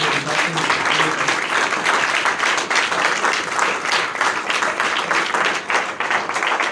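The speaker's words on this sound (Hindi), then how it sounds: "आइए जोरदार तालियां खुदा की जलाल के लिए बजाते हैं।" A congregation claps loudly and continuously during a church service, giving praise to God; thick, sustained applause with a few faint voices mixed in beneath it.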